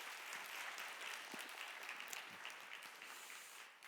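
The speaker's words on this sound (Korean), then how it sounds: "큰 박수 하겠습니다." A church youth worship congregation applauds after a special offering performance, steady many-handed clapping heard faintly and at a distance, fading slightly at the end, with no speech over it.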